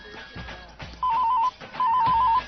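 A telephone rings in two short bursts of warbling electronic trills, close and clear, with a brief pause between them.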